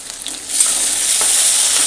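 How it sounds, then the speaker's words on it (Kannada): Onion and tomato stir-fried together in a pan, a short burst of bright sizzling and scraping that swells and holds steady, close and fairly loud, no voices. "ಇವಾಗ ಒಂದು ಸ್ವಲ್ಪ ಟೊಮೆಟೊನ ಹಾಕ್ಕೊಂಡು ಅದನ್ನು ಮಿಕ್ಸ್ ಮಾಡ್ಕೊಂಡ್ಬಿಡ್ತೇನೆ ರೀ. ಫ್ರೈ ಮಾಡ್ಕೊತೀನಿ ಎಲ್ಲನೂ."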